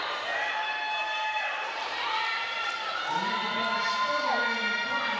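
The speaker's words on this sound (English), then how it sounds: "Lots of familiar faces in the crowd cheering her on." A roller derby crowd cheers on a skater during a jam in an SRDL bout between MindFox and Avalanche City, a steady wash of shouts and whoops that swells in places while announcers talk over it throughout.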